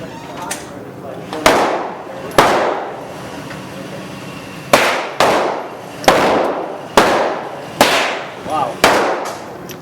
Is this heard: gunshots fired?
yes